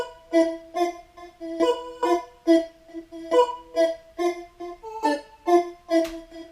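A synth lead in choppy, gated bursts, each note cut off sharply, bouncing along in a jumpy rhythm with no voices.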